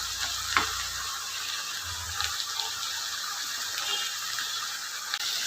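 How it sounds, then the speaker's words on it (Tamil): Onion and bottle gourd being sautéed in a pan with curry leaves and coriander, giving a soft, steady sizzle with occasional light stirring scrapes, fairly quiet and without talking. "கலர் மாறுற வரைக்கும் வதக்கிங்க"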